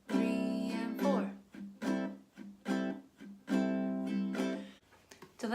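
Jazz guitar strums a rhythmic chord pattern and ends on a quick flourish of short choppy strokes, several sustained chords with muted gaps between, quiet and close.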